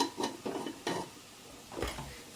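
Potato being stirred with garam masala in a pan, a few scraping spoon strokes in an irregular rhythm with light sizzling between them, close up.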